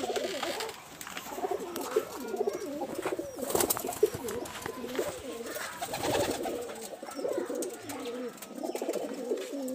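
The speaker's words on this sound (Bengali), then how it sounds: "বেশ বড় সাইজের কবুতর।" Large Giribaz pigeons from Rajshahi, kept as local birds, coo repeatedly in throaty rolling phrases. The cooing sounds close and moderately loud, with scattered rustling and clatter around it.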